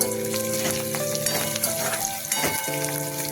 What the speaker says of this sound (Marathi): याला छान असं परतून घेऊ